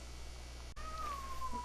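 A cat meows once in a thin, drawn-out, slightly falling cry, fairly close and clear, after a sudden break in steady low background hum.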